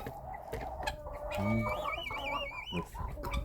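Laying hens in a coop cluck and squawk close by, with rising drawn-out calls and short clucks overlapping in a busy farmyard chorus, fairly quiet overall with scattered knocks in the background.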